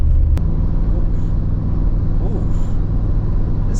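A car with a 4L65E automatic transmission pulls along in third gear, giving a steady engine and road rumble from inside the cabin, with a short sharp knock at the start.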